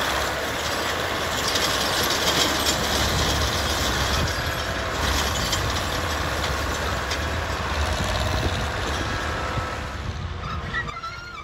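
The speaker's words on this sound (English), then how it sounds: "this machine comes along, cleans out the ballast and dirt out of the old holes, making it easier to insert the new ties" A railroad maintenance machine cleaning ballast and dirt out of old tie holes, a loud continuous diesel rumble with grinding, scraping and rattling of stone, easing off near the end.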